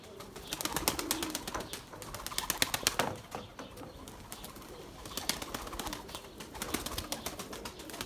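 Pigeons in a garden coo softly amid a busy patter of fluttering wings and scuffling, fairly faint and close, with gusts of wind in the background.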